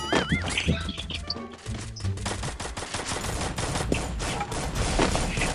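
Shotgun fire in the Free Fire battle game, rapid overlapping blasts and impacts packed densely together in a loud, continuous barrage of combat noise.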